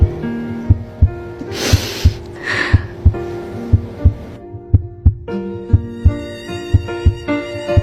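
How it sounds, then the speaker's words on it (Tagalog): A slow, regular heartbeat thumps about once every two-thirds of a second for several seconds in a Filipino church drama scene, loud and close, with soft sustained music tones underneath. "Pwede ko bang marinig ang tibok ng puso mo?"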